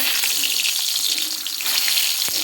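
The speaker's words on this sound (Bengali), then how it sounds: "তেল দিয়ে দিয়েছি এখন একে একে ডিমগুলো দিয়ে দিচ্ছি" Eggs are cracked one by one into hot oil in a pan, setting off a steady, close, hissing sizzle with small crackles and pops.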